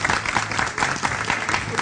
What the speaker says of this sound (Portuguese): Um aplauso para Geoffrey Massala.